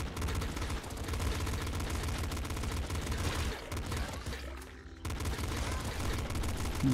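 Dense, continuous gunfire from the video game Nuclear Throne, with rapid overlapping shots, loud and busy throughout, dropping briefly before resuming.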